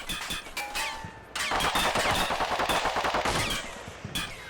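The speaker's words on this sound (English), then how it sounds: "the gunner did actually get a burst off, but he missed" Machine gun burst fired by a gunner in a PvP video game battle, a loud sustained rattle of rapid automatic fire lasting several seconds with dense, repeating cracks.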